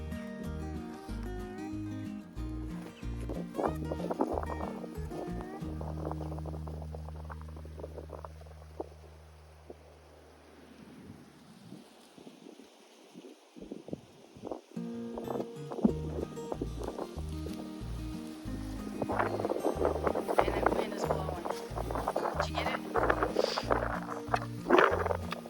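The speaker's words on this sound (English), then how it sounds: "Good grief, that wind is a lot." Strong wind gusts buffet the microphone on a farm, a broad rumbling roar that swells and fades across the clip, easing briefly in the middle before building again.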